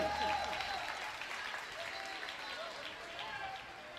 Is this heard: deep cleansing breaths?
no